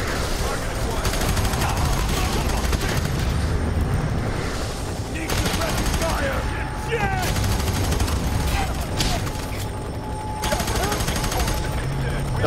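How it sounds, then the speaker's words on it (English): Heavy machine gun cover fire in the first-person shooter Fear 3, long loud bursts that stop and start in several stretches, with in-game voices talking between and under the shooting. "Give me some cover fire."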